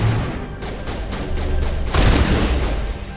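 Shotgun blasts in the sci-fi game Mass Effect, a rapid run of loud, heavy booms repeating about every third of a second, with a bigger blast near the end over a dense, rumbling battle backdrop.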